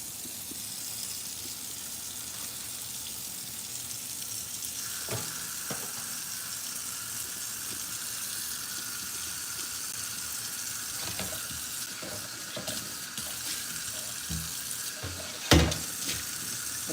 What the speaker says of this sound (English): I'm going to take this grease and pour it off.